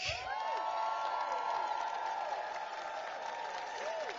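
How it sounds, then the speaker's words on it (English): A crowd applauds and cheers for Greg at a charity bike ride finish, sustained clapping with whoops and shouts blending into a continuous roar, with some voices in the mix. "Let's have a big cheer for Greg."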